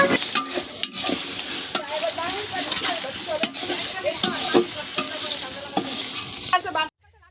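Onion frying with ginger garlic paste in a wok gives a loud, steady sizzle, broken by repeated scraping stirs of a spatula, before the sound cuts off abruptly near the end.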